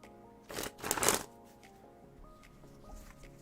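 Playing cards are shuffled together in one brief, close riffle burst, followed by quieter card handling under soft background music.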